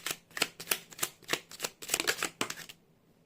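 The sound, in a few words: drawing the next tarot card from the deck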